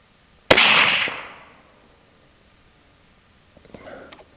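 A single sharp, loud rifle shot from Palmetto State Armory 6.5 Grendel ammunition cracks out and decays over about a second, followed by faint clicks of the rifle being handled.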